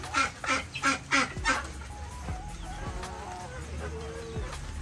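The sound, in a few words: ducks quacking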